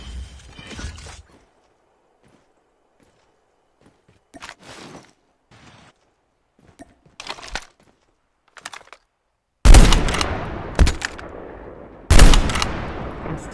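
Gunfire in the mobile shooter game COD Mobile, with a machine pistol in use: scattered short shot bursts early on, then two loud, close, sustained volleys near the end, separated by stretches of near silence.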